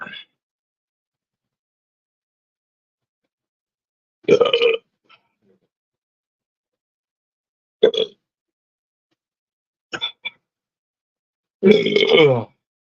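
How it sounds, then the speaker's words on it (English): Someone drinking Four Loko lets out several loud, guttural burps, spaced apart across otherwise silent stretches, with one short double burp and a longer final one. "I need to burp."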